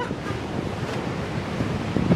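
Heavy storm surf pounds the Irish coast in 2014, a continuous broadband roar of crashing waves with strong wind buffeting the microphone, swelling louder toward the end.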